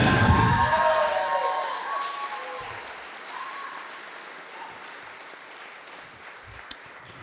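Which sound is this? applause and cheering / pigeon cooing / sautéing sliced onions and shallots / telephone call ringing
applause and cheering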